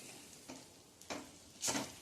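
Stuffed okra with spiced masala fries in an uncovered pan under a faint sizzle, broken by three short scraping stirs of a spatula, the last one loudest.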